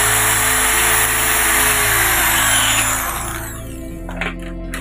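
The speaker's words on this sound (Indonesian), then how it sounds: "Kita bor dengan mata bor 3 mili dulu." Power drill with a 3 mm bit boring into an aluminium casement window frame, a loud steady high-pitched whine for about four seconds that then drops away, leaving a fainter hum with a few small clicks.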